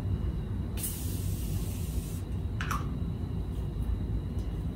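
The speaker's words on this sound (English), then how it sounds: "this time I'm gonna spray with Morphe" A short hissing burst of Morphe makeup setting spray, about one second long, followed by a briefer second spritz over a steady low background hum.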